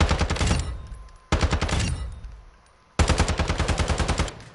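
Automatic gunfire from a weapon fired in the video game Call of Duty: Modern Warfare II. Three loud, close bursts of rapid shots are separated by short fading gaps, and the last burst is the longest.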